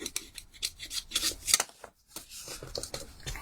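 Rough paper card edges are rubbed down by hand for card making, producing a series of short, close, scratchy rasping strokes in an uneven rhythm with a brief pause midway.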